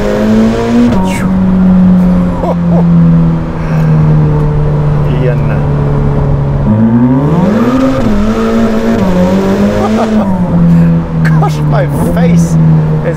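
Turbocharged Novitec Ferrari F8 N-Largo supercar with an aftermarket exhaust, a loud steady engine drone that dips and rises again as the turbo spools up, with tire noise and people talking over it.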